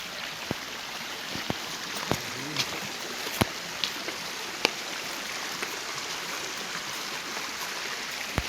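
A river in a mountain forest flows with a steady broadband rush, broken by occasional sharp clicks and knocks.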